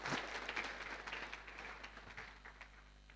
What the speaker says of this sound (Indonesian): Ya boleh beri tepuk tangan silahkan.